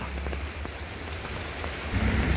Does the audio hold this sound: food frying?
no